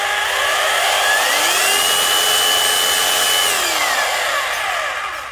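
A 220V variable-speed, reversible electric drill whines loudly nearby. Its pitch climbs as the speed control is pushed up, holds high, then slides back down before the motor eases off.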